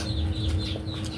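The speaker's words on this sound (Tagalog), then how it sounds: "Yung mga manok lang yung maingay." Chickens clucking nearby in a quiet setting, a few short overlapping clucks from a small flock with no talk over them.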